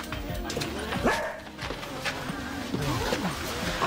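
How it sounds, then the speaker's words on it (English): A pet dog named Sasha barks and yips a few times indoors at a home, short bursts mixed with voices talking nearby and general room noise. "this is my dog, Sasha"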